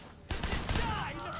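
A gunshot in the game Sleeping Dogs, a sharp loud report followed by a dense rumbling tail amid game noise and a faint voice.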